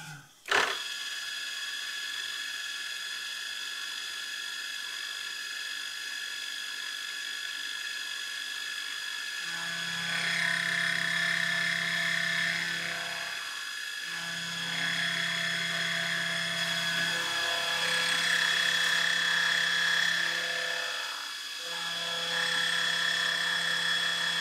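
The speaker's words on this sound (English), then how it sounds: "here I'm running the same face mill, just with the different inserts through some 6062" A face mill with swapped inserts machining 6062 aluminum, a steady whining cut with a low hum that starts partway through, with brief pauses between passes, close and fairly loud with no talking.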